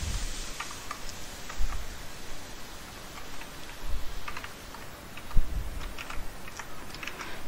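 Code is typed on a computer keyboard in a steady run of quiet, close key clicks over a soft hiss, with a few louder taps standing out along the way.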